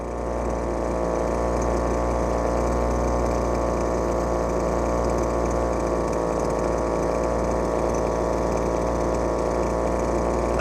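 A Lesco leaf blower's small engine runs steadily during carburetor tuning after failing to rev up, a close, constant buzzing drone with a faint rise at the very end.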